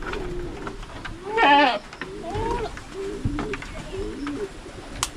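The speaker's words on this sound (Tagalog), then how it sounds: "Yung mga kambing natin na lalaki dito mga kaprobinsya, oh." Male goats on a rural farm bleating: one loud, wavering bleat stands out near the start, followed by several softer bleats and calls against low background noise.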